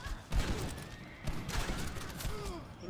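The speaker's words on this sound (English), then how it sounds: "Who the fuck is firing at me?" Gunfire in the video game Red Dead Redemption: a few scattered shots ring out at moderate distance under a faint background bed, fairly quiet overall.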